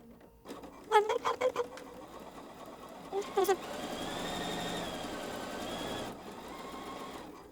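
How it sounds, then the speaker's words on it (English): A sewing machine stitches quilt fabric triangles with a seam guide set for a quarter-inch seam: quick stop-start bursts of needle chatter, then a steady, close whirring run of stitching. "So we've got the seam guide down, helping me sew an honest 1/4 inch seam allowance."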